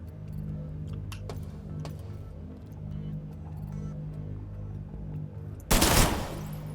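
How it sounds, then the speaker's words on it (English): Turret gunfire in the System Shock video game: over a low, steady mechanical hum with a few faint ticks, a single loud, sharp blast erupts near the end and quickly fades. "That's a turret."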